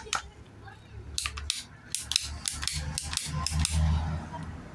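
PPRC pipe shears, a 42 mm ratcheting cutter, bite through plastic plumbing pipe in a run of about eight sharp, evenly spaced clicks and cracks, close to the microphone over a low background hum.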